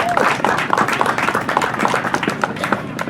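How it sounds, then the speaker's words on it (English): Audience applause at a church gathering, a brisk spread of hand claps at moderate distance, steady for a few seconds with no talking. "So give yourselves a round of applause."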